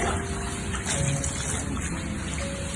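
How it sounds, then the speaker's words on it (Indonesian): Bidara leaf water being poured over a deceased body during ritual washing, a steady splashing gush that runs continuously and close by, with no talk. "mayit disiram dengan air daun bidara atau air kapur barus bagian kiri"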